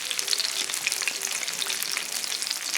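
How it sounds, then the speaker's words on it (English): Fish frying in hot grease in an iron skillet, a steady dense crackling sizzle with scattered pops, moderately loud and close, no voices. "Get that grease a little hotter."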